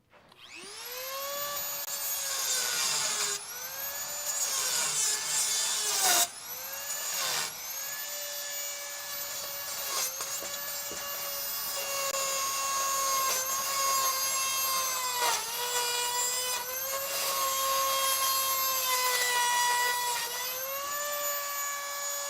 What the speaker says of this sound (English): give me the Dremel again. I'm just trying to clean all the crap out of there